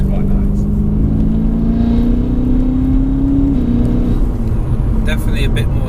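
A BMW M3 engine drones steadily while driving, a full, deep tone that rises gradually in pitch before easing off, heard from inside the car under continuous talking.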